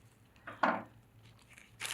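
Scissors make a single short, crisp snip into a folded plastic ziplock bag, with faint plastic rustling before and after in a quiet room.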